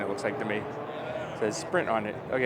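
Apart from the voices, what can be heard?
No everyday noise stands out behind the speech.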